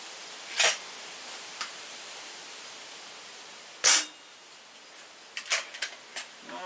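A Stoeger X3 Tac air rifle fires a 10.34 grain Ultra Shot pellet, producing sharp, close cracks at irregular intervals over a steady background hiss, with a few smaller ticks and clicks between them.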